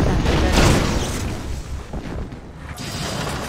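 A video game ion cannon blast: heavy and rumbling, with a dense burst of noise up front that slowly decays into a sustained crackling roar.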